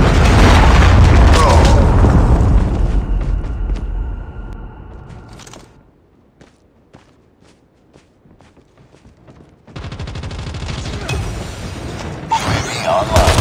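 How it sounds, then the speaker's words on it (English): A Predator missile strike in a Call of Duty: Mobile multiplayer match: a loud booming blast with rumbling debris and game noise that fades into near quiet, then dense gameplay sounds and footsteps return. "Predator missile"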